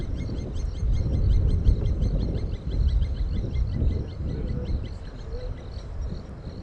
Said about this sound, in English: What's that plover calling about?